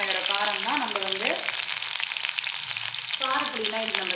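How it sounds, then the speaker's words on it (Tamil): Ginger and green chilli sauté in a pan for a Tamil home lunch recipe, a steady loud sizzle and frying crackle throughout, with a woman's speech running over the first and last parts. "நல்லா வதங்கட்டும்"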